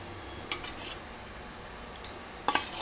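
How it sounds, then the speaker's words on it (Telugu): Lid set onto a stainless steel mixer jar in a home kitchen while making tomato sesame-oil pickle, giving two brief metallic clinks, one early and a louder one near the end, over quiet room tone. "మూత పెట్టేసుకున్నా."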